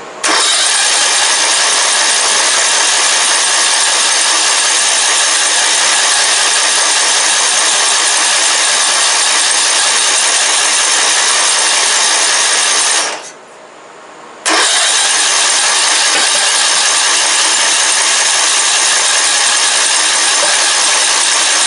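A small engine on an MTD Bolens 38-inch riding mower runs loud and steady on brake cleaner, droning continuously before briefly cutting out, then catching again and running on.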